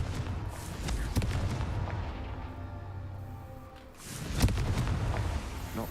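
A Confringo spell explodes in Hogwarts Legacy with a deep booming blast and a rumbling roll that fades. A second burst follows, loud and close, over low game ambience.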